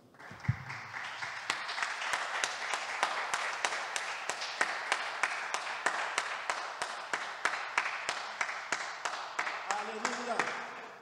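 A church congregation claps together during a worship service, steady rhythmic hand claps at a regular beat lasting several seconds, with voices under it, moderately distant and fairly quiet.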